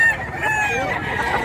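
A gamefarm stag rooster crows once, a loud, drawn-out call close by that fills the moment and fades at the end.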